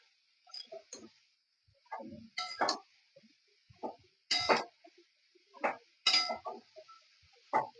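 A lid lifted off a pot of simmering winter vegetables and the mix stirred, giving a series of distinct metallic clinks and scrapes spaced irregularly, close and fairly quiet, without talk.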